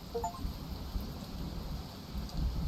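Rain begins falling in the video game Discolored, a steady broadband hiss with a low rumble, even and continuous, with no voices.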